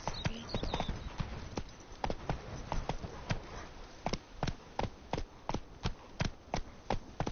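A horse's hooves clop along a road in The Witcher Wild Hunt in a steady, evenly spaced trotting rhythm, close and clear with no other sounds over them.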